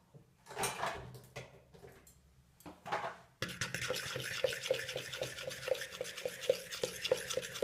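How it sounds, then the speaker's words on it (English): A spoon stirs Kaiserschmarrn batter in a bowl after milk is added, first in a few scattered scrapes, then a steady rhythmic whisking with regular clinks against the bowl, close and clear. "And mix well."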